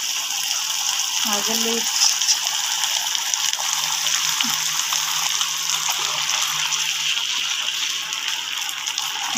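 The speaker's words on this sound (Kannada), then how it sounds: "ಈಗ ನೀರನ್ನು ಹಾಕ್ಕೊಳ್ಳೋಣ." Water pouring into a mixing bowl for potato manchurian batter, a steady soft gushing wash heard fairly close, with a brief word spoken partway through.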